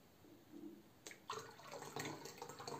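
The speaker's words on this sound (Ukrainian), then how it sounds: "І доливаю до неї гарячої води" Hot water is poured into a container of boiled water, a quiet, close splashing trickle that starts after a moment of near-silence and continues unevenly.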